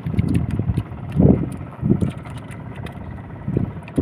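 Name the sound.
strong habagat southwest monsoon wind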